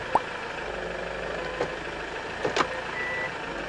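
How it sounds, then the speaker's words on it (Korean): A Hyundai Grand Starex's rear parking sensor gives several short, spaced beeps over a quiet idling engine hum inside the van. "후방 카메라 내비게이션은 없지만 후방 감지 기능 장착이 되어 있습니다"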